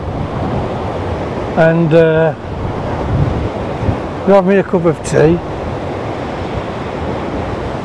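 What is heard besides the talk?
big waves crashing at Porthcawl with wind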